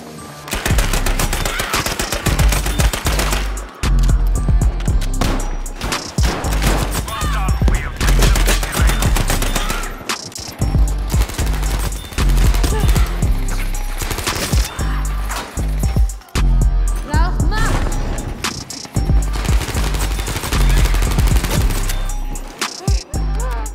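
Rapid automatic gunfire in Battlefield 5, loud dense bursts of shots in long sustained strings with brief pauses between them.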